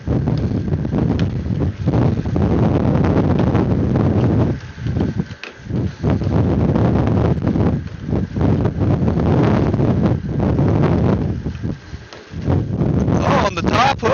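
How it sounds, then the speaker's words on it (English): Strong wind blows across open sea with whitecaps during commercial trolling off Alaska, a steady loud roaring buffet against the microphone that dips briefly twice, with people talking over it. "It's definitely breezy."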